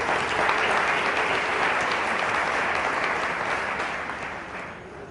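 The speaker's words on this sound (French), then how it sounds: "Vous pouvez vous acclamer pour paroisse." Parishioners at a church celebration of the parish's 50th anniversary give sustained, dense applause that tapers off gradually toward the end.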